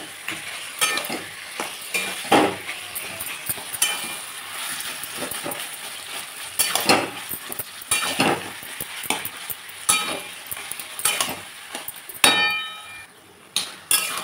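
Taro leaves (kochu shak), boiled and drained, being stirred with spices in a pan, giving repeated scraping strokes and clinks over a steady frying sizzle, close and moderately loud, with no talk.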